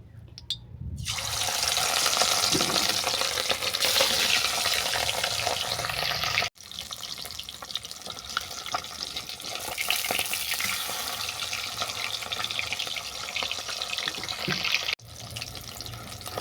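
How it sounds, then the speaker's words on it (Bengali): Rohu fish and cauliflower fritters fry in hot oil in a kadai, a loud, steady sizzle that goes on almost without a break, briefly cut off twice. "কড়াতে তেল দিয়ে তেলটা ভালো করে গরম করে নেব, নিয়ে বড়া আর মাছ আলাদা আলাদা করে আমি ভেজে নেব।"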